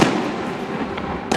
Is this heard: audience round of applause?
no